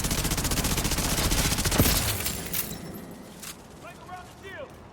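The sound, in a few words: gunfire in a video game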